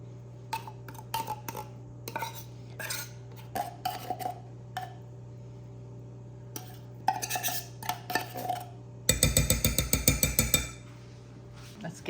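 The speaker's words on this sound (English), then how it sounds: "Let's get this stirred." A spoon stirs a mixture containing sweetened condensed milk in a bowl, giving scattered clinks and scrapes, then a denser burst of rapid rhythmic scraping near the end, close and moderately loud.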